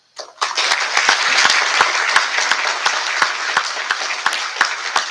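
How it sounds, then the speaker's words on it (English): An audience at a National Honor Society induction ceremony breaks into a burst of applause, dense steady clapping from many hands that starts abruptly and holds strong, loud and fairly close with no talk. "Would you please join me in a round of applause for all current and new members?"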